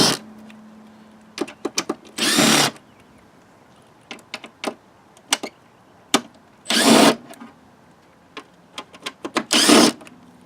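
Screws being removed from the air filter housing of a 2008 Volvo S60 T5 with a T25 Torx driver: sparse clicks and taps, a faint hum, and several louder rustling bursts of handling the parts, close up.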